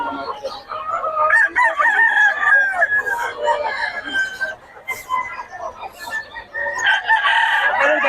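Bull stag roosters crow loudly and close by, with overlapping crows and clucks from several birds in a busy fowl yard, and voices faint in the background.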